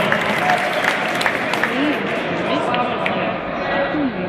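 An audience applauds at an underwater spearfishing cup awards ceremony in Mali Lošinj, a steady dense clapping crowd with voices talking over it nearby.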